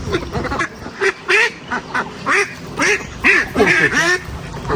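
Several ducks quack in a series of short, loud, nasal calls that repeat in uneven bursts across the whole stretch, close by and with no talking over them.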